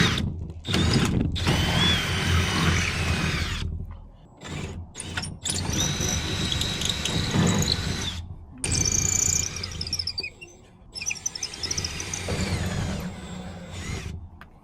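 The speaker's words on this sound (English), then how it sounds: "I'm going to drill up and through this slider" A power drill opens up existing mounting holes in the steel slider of a 1977 Bali tilt-deck trailer, running in several loud bursts separated by brief pauses, with mechanical ratcheting and whirring close by.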